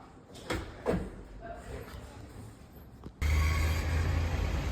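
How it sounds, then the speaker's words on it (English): A front door at Uncle Johnny's new bunkhouse on the Appalachian Trail closes with a couple of short knocks and thuds, followed by muffled room noise and a sudden, steady louder hum. "I'm gonna close the front door"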